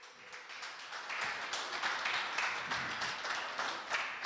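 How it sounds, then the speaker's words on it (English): Steady audience applause fills a design and build expo panel session, a continuous wash of many hands clapping at moderate, fairly distant level for several seconds. "Keep clapping, keep clapping, keep clapping."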